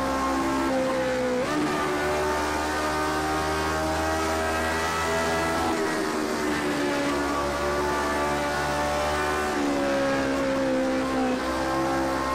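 Lotus 49 Cosworth race car roaring around Classic Spa in a racing video game, a loud, steady high-revving engine note that dips briefly on lifts near 1.5, 6 and 11.5 seconds before climbing again.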